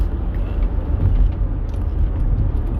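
A car drives along a road, heard from inside as a steady low rumble of engine and tyre noise, loud and constant, with no talking.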